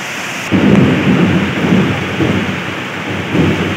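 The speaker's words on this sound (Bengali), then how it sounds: "বিদ্যুতের ঝলকানি, মেঘের গর্জনে নামে ঝমঝমিয়ে বৃষ্টি।" A thunderstorm with heavy rain, with hail reported during the storm, pours down in a dense, continuous hiss while deep thunder rumbles roll through in waves.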